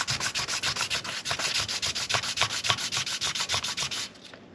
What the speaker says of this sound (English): I've got this little piece of steel, nice and flat, and this piece of 500 grit sandpaper